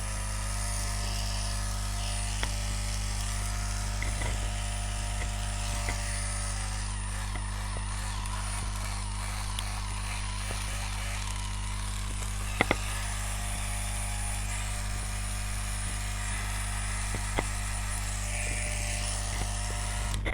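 A repaired Beurer MP 60 manicure-pedicure drill runs with a steady high electric whine and constant low motor hum, close and even throughout, with a few faint clicks and no talking.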